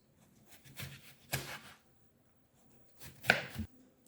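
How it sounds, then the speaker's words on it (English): A knife chops cucumber into small chunks on a cutting board, a few quiet, sharp, separate cuts: two strikes around the first second and a louder pair near the end, with silence between. "Next, I cut the cucumber. I cut it into small chunks."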